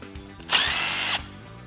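A power drill or impact tool spins for about half a second to remove nuts and bolts on a Polaris UTV during a clutch kit install, a steady high whine with small mechanical clicks before and after.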